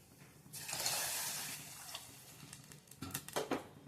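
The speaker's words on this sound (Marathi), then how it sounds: "थोडीशी कोथिंबीर आणि 2 ग्लास आपण पाणी ओतणार आहोत।" Water poured from a glass into a pan of fresh pavta amti curry with oil-roasted spices and coriander, a soft splashing pour lasting a couple of seconds, followed by faint stirring and small liquid clinks close by.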